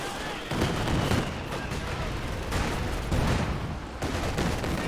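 A Katyusha rocket barrage in Company of Heroes 2 roars as a dense, continuous rumble of launches and explosions that stays loud throughout, with waves of impacts.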